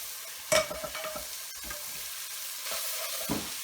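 Noodles dropping into a hot pan with prawns and mushrooms, a burst of sizzling at the start that settles into a steady frying hiss with light stirring, fairly close, no voices.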